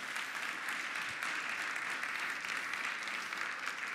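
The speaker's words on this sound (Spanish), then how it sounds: "dale un aplauso al Señor" A Spanish-speaking church congregation applauds the Lord during a sermon, a dense, even wash of clapping from many hands held at a steady level for several seconds.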